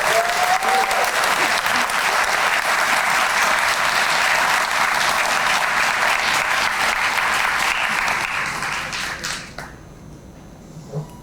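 An audience at a police district community relations awards ceremony applauds after a tribute poem, sustained loud clapping from many people that holds steady, then thins and dies away in the last couple of seconds.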